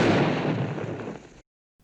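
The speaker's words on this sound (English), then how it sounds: "the possibility of an uncontrolled explosion" A coal mine explosion sounds as a single loud, deep rumbling blast that fades over a second and a half, then stops dead into silence.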